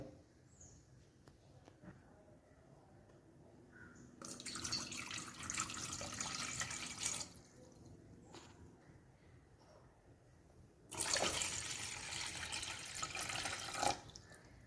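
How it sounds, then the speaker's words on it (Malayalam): Two separate pours of water splash into a pot, each lasting about three seconds, with quiet pauses before, between and after them. "ഇനി ഇതിലേക്ക് ഇതുപോലൊരു ഗ്ലാസ്സിന് 2 ഗ്ലാസ് വെള്ളം ഒഴിച്ചു കൊടുക്കുക കേട്ടോ"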